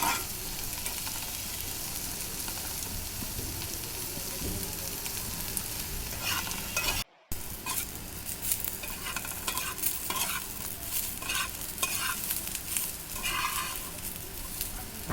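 Pointed gourd peels fry with garlic and onion in a pan, giving a continuous close sizzle with scraping stirring strokes throughout and a brief break midway.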